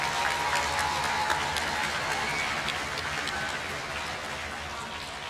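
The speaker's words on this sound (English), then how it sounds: "Let's give them one more round of applause." An audience at a school awards ceremony applauds student scholars with a dense, continuous patter of many hands that slowly eases off, with some voices mixed in.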